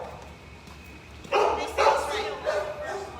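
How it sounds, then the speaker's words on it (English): A dog at an animal shelter gives several short barks and yips in quick succession, fairly close, after a stretch of quiet background murmur. "there's a dog in there"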